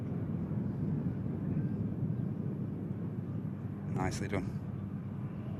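A Loganair Embraer jet arrives from Inverness, its broad engine roar steady and loud at an airport. A voice speaks briefly over the noise.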